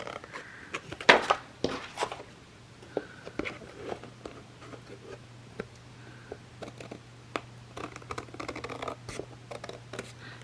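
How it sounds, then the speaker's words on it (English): Tim Holtz scissors trim excess paper up close, giving quiet, scattered snips and scratchy cuts in irregular bursts over a faint background hum. "So I'll just go ahead and trim this excess off."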